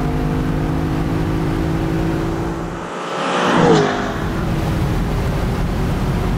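A Lexus LC500 Convertible V8 engine drones loudly and steadily, then swells in a short rev around the middle before settling back to its even roar, close up with no talking.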